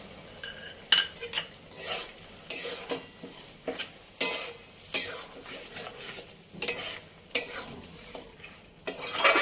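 Roasted spice masala being stirred and fried in a pan for chicken fry, with repeated scraping and clinking strokes of a spoon against metal over a low sizzle, close up and irregularly paced.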